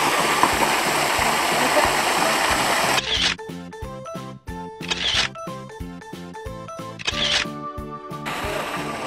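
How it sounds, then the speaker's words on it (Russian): Steady rushing water of a mountain waterfall fed by warm radon springs in Kyrgyzstan, a continuous wash that gives way midway to close, clicking handling noises over fainter flowing water. "Да, вот отсюда этот водопад и идет."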